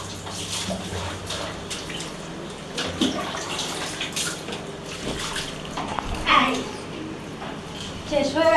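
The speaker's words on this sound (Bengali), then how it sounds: "জিভ বার করে স্নান করছে" Water splashes and runs as a cat is bathed, with intermittent pouring and dripping close by while a person keeps talking over it.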